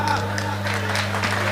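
Short burst of audience applause at a Hindi comic poetry gathering: steady, dense clapping from a crowd over a low electrical hum, lasting the whole moment.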